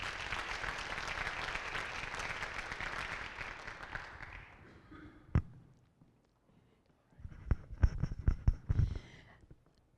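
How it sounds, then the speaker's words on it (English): Audience applause at a high school celebration, a dense steady wash of clapping that fades after several seconds, followed by scattered thumps and shuffling footsteps in the hall. "Y'all give a round of applause for Ms."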